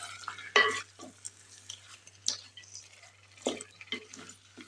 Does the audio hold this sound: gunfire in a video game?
no